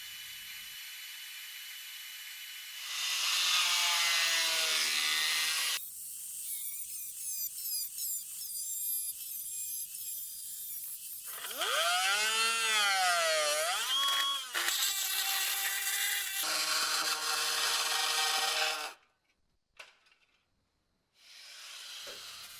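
Power tools cut into rusted steel of the inner rear arch panel on a 36-year-old BMW E30 Touring, a loud, high-pitched whine with changing pitch that runs in long bursts, stopping and restarting, close up with no voices.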